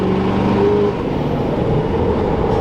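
A Duramax diesel pickup engine revs at roughly half throttle, a loud, close, steady low rumble that holds for a moment and then eases slightly without dropping away.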